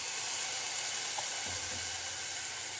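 Cauliflower for gobi pepper fry cooks in a pan with sauces, giving a soft, steady sizzling hiss with a low bubbling undertone, fairly quiet and unbroken.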